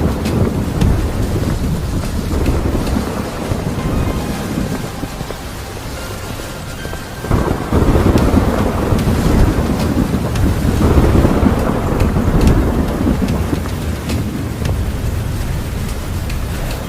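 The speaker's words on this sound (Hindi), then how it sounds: "देखो कितनी जोर की बारिश हो रही है" Heavy rain pours steadily during a thunderstorm, with broad loud hiss, gusting wind and deep rolling thunder rising and falling over the whole stretch, no voices.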